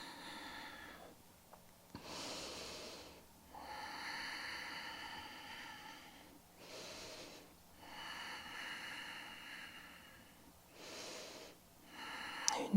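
Deep, rhythmic breaths during a shoulder stretching exercise: slow, airy inhales and exhales repeat about every three seconds, close and fairly soft, with no talking.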